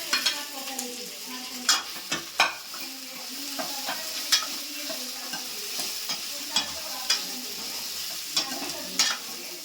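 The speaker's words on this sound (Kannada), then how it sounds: "ಈಗ ಮಟನ್ ಹಾಕ್ತಾ ಇದ್ದೀವಿ ಅಂತೆ." Mutton pieces sizzling and being stirred in a hot pan for a spicy pepper fry, with steady frying hiss and repeated sharp scraping clinks of a spoon, close and fairly loud, with no talk.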